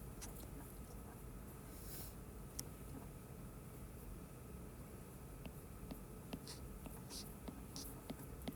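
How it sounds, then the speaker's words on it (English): Practice problems are written out by hand, with steady scratchy pen strokes and occasional taps continuing close up throughout, under faint whispery background noise. "So I'm going to write out 4 problems here."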